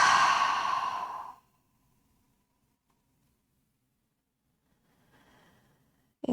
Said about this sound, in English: Take a clearing breath in through the nose. Exhale out through the mouth.